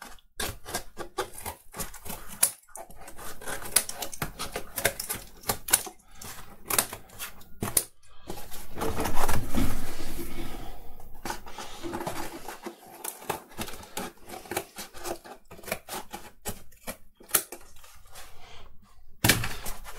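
Cardboard is cut and handled while a Darth Vader helmet is built from it, giving a steady run of dry crisp snips and scrapes with irregular pauses, close up and with no speech.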